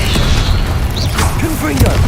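A Confringo fire-blast spell in the Hogwarts Legacy video game, a heavy booming burst amid loud continuous combat noise and low rumble, with other effects layered over it.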